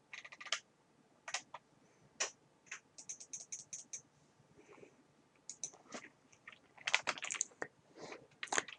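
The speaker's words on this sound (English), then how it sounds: "I'm going to zoom in so you can see what I'm typing." Bursts of rapid key presses on a computer keyboard, with short pauses between runs, close and fairly quiet, with no voices.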